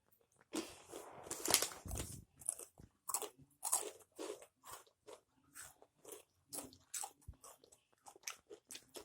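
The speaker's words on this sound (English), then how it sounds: "I'm chewing it. I'm feeling it." Takis rolled tortilla chips crunch loudly in a mouth up close, with an initial burst of bites followed by steady, rhythmic chewing crunches.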